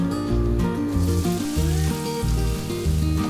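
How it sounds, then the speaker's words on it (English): Three chopped onions sizzle loudly and steadily in hot oil in a pan, a dense continuous frying hiss heard close up with no talking. "And fry it until the onion is nice and soft."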